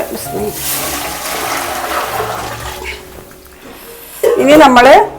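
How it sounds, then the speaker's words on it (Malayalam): Water pours steadily into a pot for chicken mandi with a rushing splash, then a voice speaks briefly over the end. "അപ്പോൾ നമ്മൾ അതിന് ഒരു പാത്രം വെള്ളമാണ് ഒഴിക്കുന്നത്"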